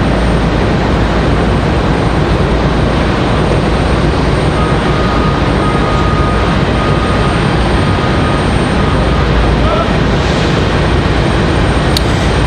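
A PSA Airlines plane comes around at Raleigh-Durham airport, a loud, even, sustained engine roar lasting the whole stretch without talk.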